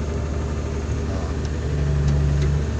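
A Komatsu SK-200 excavator's diesel engine runs at low revs, a steady, loud, deep rumble held close throughout with no break.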